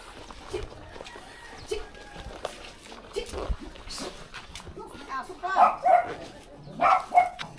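A dog barks in short bursts, growing louder toward the end, while people talk and chickens cluck in the background, at a spring water resort in Mangayao.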